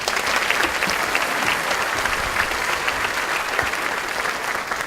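Audience applause for a volunteer called up on stage at a health charity evening gala, dense sustained clapping from a large crowd, loud and even throughout with no talking.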